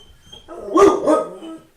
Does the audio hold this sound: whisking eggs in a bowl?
no